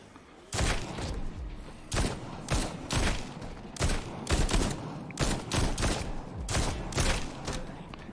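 Pistol gunfire with copper tip bullets in the video game TWD: Onslaught, about a dozen loud, close shots in an uneven rapid rhythm, some in quick doubles, with no talk over them.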